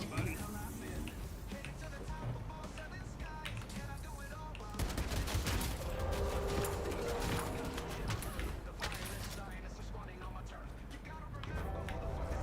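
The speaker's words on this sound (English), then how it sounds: "burst fire." Burst gunfire from a played training video runs at full speed as repeated rapid volleys, steady and dense under and alongside ongoing talk and background music.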